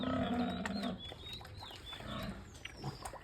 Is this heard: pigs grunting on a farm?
yes